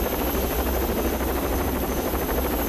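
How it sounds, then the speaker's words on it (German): A helicopter in the Rainbow Six Vegas video game gives a steady, loud rotor drone with a fast rhythmic chop, continuous and unchanging throughout. "Ach, der kommt jetzt, der Hubschrauber."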